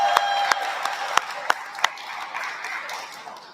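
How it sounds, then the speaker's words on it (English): Scattered audience claps ring out at a government event, a few sharp distinct hand claps standing out over a thin, fading patter of applause. "Let's give Jesus Christ a big round of applause today"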